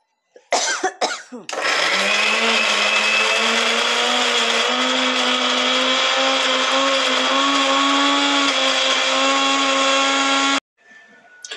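A mixer grinder whirs loudly for about nine seconds as it grinds soaked red chillies and garlic with water into chutney, a steady high-pitched motor whine that rises slightly in pitch, starting and stopping abruptly.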